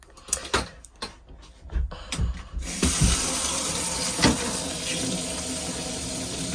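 Hot water gushes steadily from a shower tap in a Swift Escape 694 motorhome, a constant hissing rush that starts after a few seconds of clattering and handling noises, close and fairly loud.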